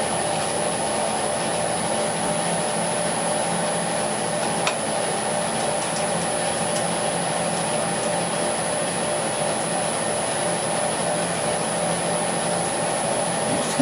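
Lathe spinning a locomotive axle at 1300 RPM, a steady whirring machine drone with a faint high whine, constant and continuous throughout with no talking.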